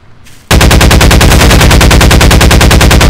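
Rapid automatic gunfire in the video game Garry's Mod, a loud, steady stream of evenly spaced shots starting abruptly after a brief quiet moment and continuing without pause.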